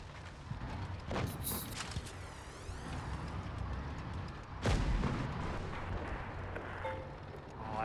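Missile explosion hitting a house in a video game, a loud boom near five seconds over a dense rumbling game soundscape with smaller blasts and effects around it.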